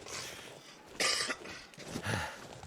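A person with a cold coughs close to the microphone, a couple of short, rough coughs separated by brief pauses against a quiet background.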